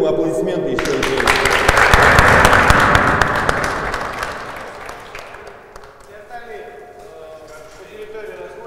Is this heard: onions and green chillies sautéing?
no